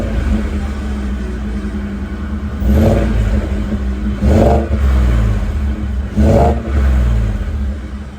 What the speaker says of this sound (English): That's the original exhaust.